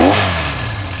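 A 1966 Honda CB160 motorcycle, restored, runs close by with a brief rev easing back toward idle, a loud steady engine tone without speech.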